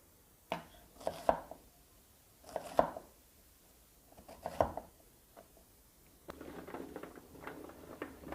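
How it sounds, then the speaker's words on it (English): Knife chopping vegetables into cubes on a cutting board for roasted beets, carrots and sweet potatoes, a few clustered groups of sharp taps with pauses between, then a busier stretch of clatter near the end. "we're going to cut these into cubes"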